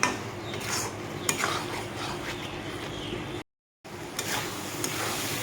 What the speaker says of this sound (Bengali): পটলের সাথে আমি ডালটা ভালোভাবে আরও দু মিনিটের মতো কষিয়ে নেব